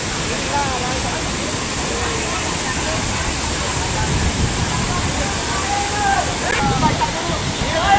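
The Mutyamdhara / Maisalloddi waterfall near Doolapuram, Wazeedu, Mulugu roars steadily and close throughout.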